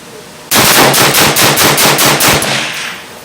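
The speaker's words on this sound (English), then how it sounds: "So I'm going to try the rapid firing. I think it's going to be about 7 or 8 rounds." A rare Ruger 10/22 magnum rifle with a heavy barrel and walnut stock fires a rapid string of about eight sharp, evenly spaced shots, loud and close, then a fading ring.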